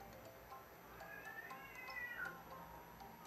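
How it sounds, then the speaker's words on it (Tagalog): A cat meows faintly in the distance, a few drawn-out cries over quiet background hiss. "Yung pusa sa likod na namin."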